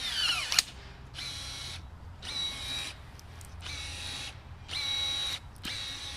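Milwaukee M18 battery-powered telescoping pole pruner cutting through a green wood branch, its motor whining in several bursts of about a second each with brief pauses between, close and steady, with no talk.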